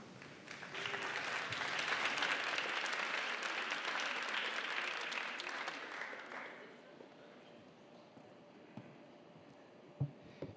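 Applause from a gala audience greeting a speaker, a broad, sustained wash of clapping for about six seconds that then thins to scattered claps and a few isolated knocks.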